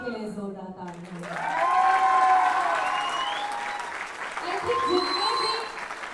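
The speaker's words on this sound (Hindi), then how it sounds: "तो एक बार सर के लिए जोरदार तालियां" Guests at a cosmetics product launch event applaud for a speaker, with clapping that swells after a moment and stays steady and fairly loud while voices and music-like tones carry over it.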